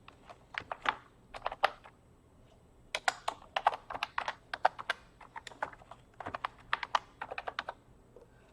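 Someone types on a computer keyboard in bursts of sharp plastic key clicks with short pauses between words, recorded close and clear in a quiet room, with no speech.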